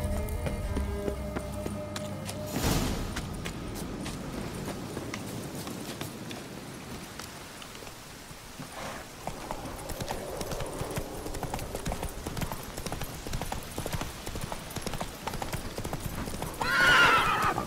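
A horse gallops in The Witcher 3: Wild Hunt with rapid, rhythmic hoofbeats pounding close and loud throughout, over faint game ambience, and then gives a sharp neigh near the end.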